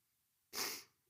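A single sharp, breathy sneeze, close and sudden, fading quickly into quiet.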